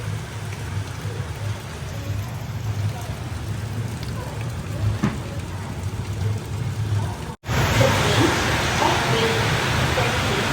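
Heavy downpour outside a moving train near Ernakulam: a constant, dense hiss of rain under the steady rumble of the carriage, swelling louder and brighter after a brief break near the end.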